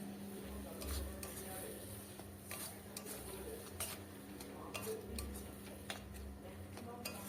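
Fried onions get stir-fried in a kadai alongside gourd greens and shrimp, producing a continuous close sizzle with repeated scraping strokes of a spatula against the pan and low background hum.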